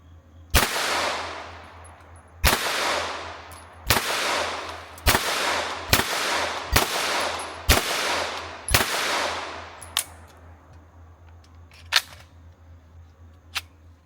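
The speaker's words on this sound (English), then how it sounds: "Alright, that was all the 15 rounds, testing out that trigger." A MAC-5, an MP5-style gun, firing single shots: sharp cracks at a measured pace, each trailing off in a brief echo, with a few fainter pops toward the end and no talk.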